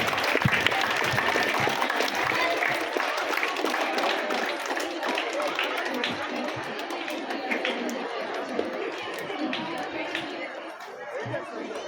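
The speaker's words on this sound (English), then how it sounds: "When the children get prize, clap your hands." Children, parents and staff at a matriculation school's annual day clap for nursery and primary pupils receiving prizes, with steady, lively applause mixed with crowd chatter and a voice talking throughout.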